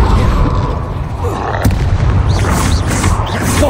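The Confringo spell in Hogwarts Legacy bursts with a loud, booming blast over a rumbling low-end roar. A bright crack lands near the middle, and sharper whooshing spell effects come later.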